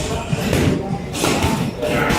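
Hard punches thudding during a boxing sparring session between professional fighters, several heavy blows landing in quick succession close by, with muffled movement and voices underneath.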